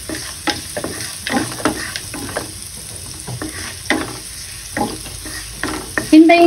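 Garlic and onion with a pinch of salt sauté in a pan, a steady sizzle broken by repeated scraping strokes of a spatula stirring close by, with no talk.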